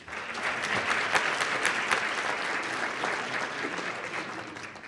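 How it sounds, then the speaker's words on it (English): Audience applause at an awards ceremony, steady dense clapping from a crowd that holds at an even level for the full stretch, with no talk over it. "a round of applause for James"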